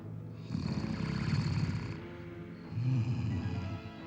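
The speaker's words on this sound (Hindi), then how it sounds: "ऐसे खर्राटे भर रहे हो जैसे सचमुच बड़ी मुद्दत से सोए हुए हो" A man asleep with a sheet pulled over his face snores loudly, two long rasping inhalations with a short pause between, close and alone.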